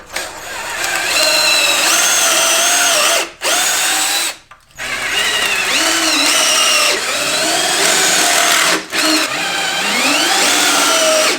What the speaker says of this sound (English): we've got to drill some holes so that we can attach the top without having to drill screws through the top